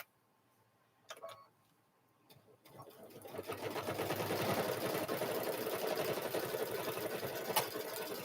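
After a quiet start broken by a few handling clicks, a sewing machine starts and runs steadily, stitching the boxed corner of a quilted handbag with a close, continuous buzzing whir.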